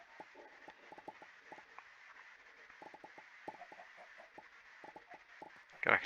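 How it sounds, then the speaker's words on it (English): Chickens in the Ragnamod VII Minecraft modpack clucking in short rhythmic bursts of quick clucks, somewhat muffled as if through a floor, with a louder, sharper sound right at the end. "God, I can hear those chickens laying through the floor."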